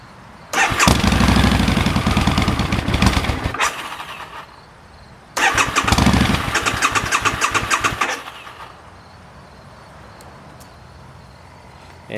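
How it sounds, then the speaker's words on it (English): A 2011 Harley-Davidson V-Rod VRSCF motorcycle engine cranks and fires twice, each attempt a loud few-second burst of rough running that dies away into quiet, the second burst fading as it stalls. "you want to start the bike and let it stall out. And then once it's stalled out, you want to crank it up for another 3 seconds"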